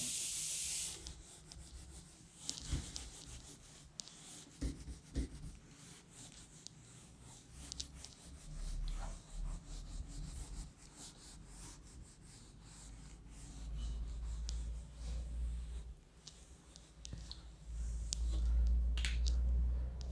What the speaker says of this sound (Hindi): उसको भी मैं लिख देता हूँ